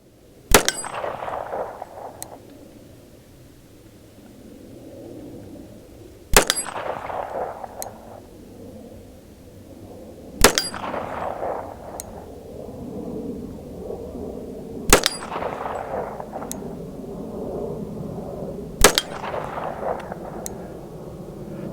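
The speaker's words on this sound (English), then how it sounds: "We're going for the big gong target." Springfield Armory 1911 TRP pistol firing five shots at a big steel gong target about 20 yards away, each sharp report followed by a ringing metallic clang, spaced roughly four seconds apart outdoors.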